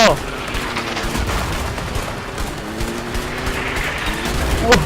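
Gunfire in the video game A Way Out sounds as rapid, dense shooting that runs continuously and loudly through the whole stretch, with sharp bursts at the start and end.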